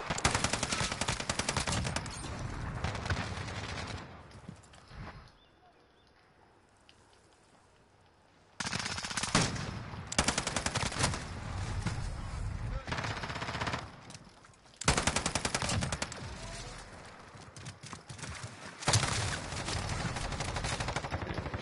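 Automatic gunfire from an R9 gun in a video game rattles in long, loud, sustained bursts, broken by short near-silent gaps between volleys.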